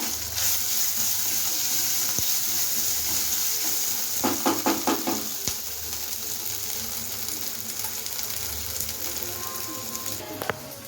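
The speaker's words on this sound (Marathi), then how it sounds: "आता आपण ठेचा टाकून देऊया. थोडासा हिंग टाकलेला आहे." Thecha chili paste with curry leaves and a pinch of hing frying in a pan, giving a steady close sizzle with a few stirring scrapes and clinks, no talking.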